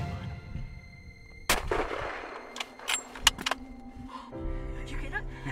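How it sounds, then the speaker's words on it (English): A single sharp rifle shot during a deer hunt cracks out once, followed by quieter rustling and handling noises. "I knew that was my moment when I needed to make the shot"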